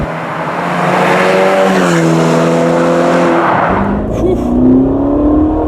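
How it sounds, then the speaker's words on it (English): A Ferrari California T engine roars loudly and steadily, revving up through gears with a smooth rising pitch, close and continuous throughout. "it sounds like a real Ferrari"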